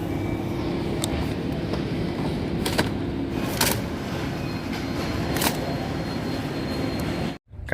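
A metro train rumbles steadily, its loud even roar broken only by a few faint clicks before it cuts off abruptly.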